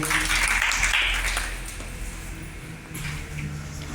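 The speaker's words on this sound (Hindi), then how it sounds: "जोरदार तालियां।" Audience applause for a prize winner at a Hindi-language award ceremony handing out prizes, heard as a steady wash of clapping at moderate level that thins slightly midway and then picks up again.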